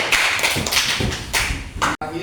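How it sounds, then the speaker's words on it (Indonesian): Students in a classroom applauding a presenting group, a burst of dense uneven clapping close by with mixed thumps, ending abruptly in a brief silence followed by a faint tail. "tepuk tangan tuh kelompok 3"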